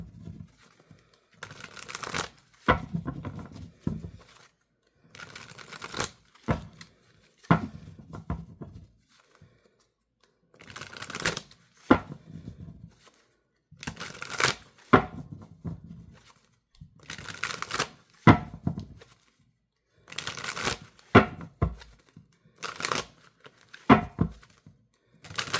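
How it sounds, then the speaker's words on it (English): A deck of cards is shuffled in repeated short riffling bursts separated by pauses, close and fairly quiet, with no talking. "I don't even know why I'm shuffling this deck"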